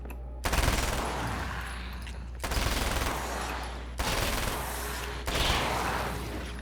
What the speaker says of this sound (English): Let's switch to my machine gun for these guys.